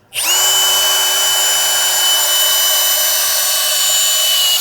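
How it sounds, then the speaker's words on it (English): A power drill screws a Tiegear Steadfast screw peg into the ground, whirring loudly and steadily for several seconds, a close, continuous high-pitched motor whine that starts abruptly and holds nearly constant. "you're letting your drill do all the work for you"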